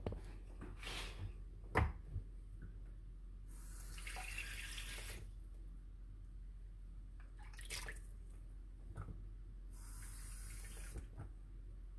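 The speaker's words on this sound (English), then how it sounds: "Let's go fill it up with some water." Tap water runs into a hollow plastic egg in bursts, with splashing gushes separated by quieter drips and handling noises, heard close up in a quiet room.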